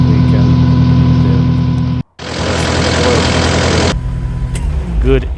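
A Kubota SSV75 skid steer's engine idles with a steady, throbbing mid-pitched drone, cut by a brief silent gap, then louder, broader running before settling back near the end.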